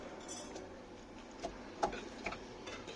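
Knife cutting onions in a home kitchen, heard as a few sparse, light ticks and clinks of the blade against the board over faint room ambience.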